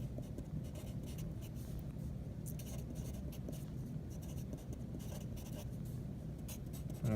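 Marker or chalk scratches across a board during a lesson, a run of quick irregular strokes and taps over a faint room hum, with no talking.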